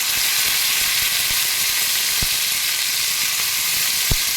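Steady, loud sizzling of half-boiled green peas frying in oil with cumin seeds, a constant hiss with occasional small pops and ticks throughout.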